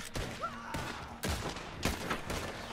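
Gunshots ring out in Red Dead Online, several sharp cracks spaced across a few seconds, fairly quiet under game ambience with a faint whistling tone.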